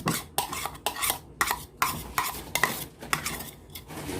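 A spoon stirs and scrapes through lumpia filling with chopped onion in a bowl, making rhythmic, wet, clinking strokes, roughly two per second, close up with no talk.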